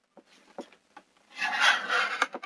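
Cardboard packaging of a Halo 5 edition rustles and scrapes during an unboxing, a few light taps followed by a longer close rubbing slide.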